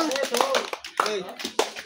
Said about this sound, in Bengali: সবাই লিজার জন্য হাততালি, সবাই হাততালি